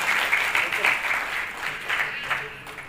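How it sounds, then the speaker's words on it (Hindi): Audience clapping for guests on stage at a large community convention, a dense, steady wave of applause from a nearby crowd that swells and fades slightly over a few seconds. "जोरदार ताली"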